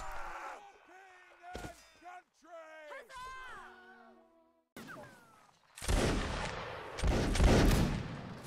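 Musket volleys crackle in a Napoleonic Wars line battle game: several loud, broadband bursts dominate the second half, after a stretch of voice chat, with players talking over and around the shots.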